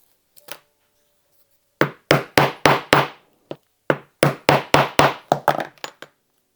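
Metal rivets are hammered into a punched leather keychain: sharp percussive strikes, a couple of isolated taps then rapid bursts of several blows in a row, close and loud on a quiet background.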